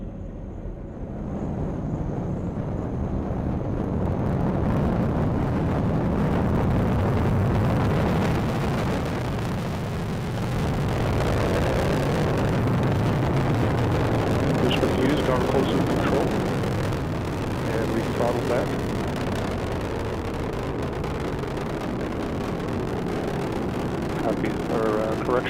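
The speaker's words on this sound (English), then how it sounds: "Booster engine continues to perform well." The booster engine of the NASA rocket launching the Radiation Belt Storm Probes mission roars as a deep, distant, rumbling thunder. It stays sustained and broad, gently swelling and fading over nearly half a minute.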